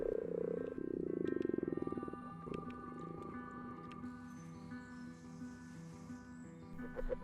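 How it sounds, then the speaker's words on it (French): Common frogs croak in a low, purring chorus of rapid pulsed snores, loudest at first, then overlapping calls continue more softly with a few sharp clicks, alone in a quiet outdoor setting. "Les grenouilles rousses les accompagnent souvent et lancent leur ronflement monotone,"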